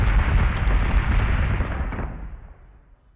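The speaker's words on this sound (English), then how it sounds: "Missiles incoming! Fighter squadron is taking fire." Missile explosions rumble through a space battle in the video game Battlestar Galactica Deadlock, a loud, dense, continuous low roar of blasts that gradually fades away over a few seconds, with no voices.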